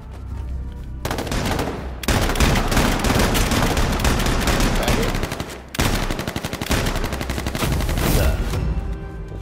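Gunfire in the battle royale video game H1Z1, loud, dense bursts of rapid automatic shots rattling on almost continuously, with a short pause between volleys.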